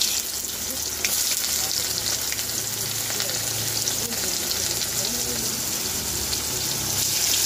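Onion frying in hot oil with bay leaves in a village kitchen for a rohu fish curry, a steady continuous sizzle that stays loud and even throughout, with faint stirring and a little background noise.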